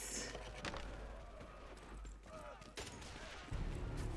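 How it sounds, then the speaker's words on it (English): A machine gun fires in sharp bursts, with a few loud cracks standing out over a rumbling low background and a heavier burst at the end; faint talk sits in the mix. "Another machine gun."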